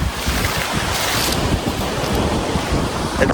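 Rough sea waves wash and surge steadily near the shore at Phi Phi Island off Phuket, with strong wind buffeting the microphone throughout.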